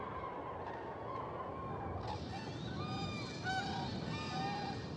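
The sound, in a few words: European cranes calling during migration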